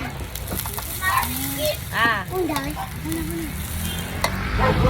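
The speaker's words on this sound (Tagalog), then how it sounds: "Cooking fried rice and" Fried rice frying and being stirred in a pan: a steady sizzle with scraping stirs runs throughout, and children and adults chatter over it.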